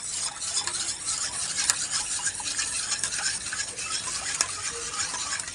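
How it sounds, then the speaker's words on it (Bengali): Milk being stirred into curdled sour yogurt in a pot, a continuous close scraping and swishing stir with a faint sizzle underneath. "ফাটানো টক দইয়ের মধ্যে দুধটা আমি ঢেলে দেবো, দেওয়ার পরে ভালো করে আরও ফাটিয়ে নিতে হবে।"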